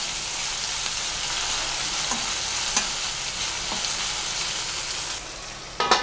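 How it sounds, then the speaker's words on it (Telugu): Chopped green chillies, garlic, onion and cumin fry in hot oil, a steady close sizzle with a few sharp spatters and stirring scrapes, no voices. "ఇవి ఫ్రై అయిపోవాలండి ఆయిల్లో"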